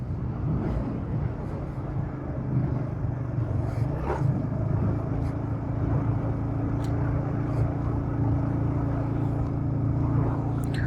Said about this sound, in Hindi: अब फुल थ्रॉटल खींच रखा है मैंने, फुल है लेकिन चौथा गियर भी है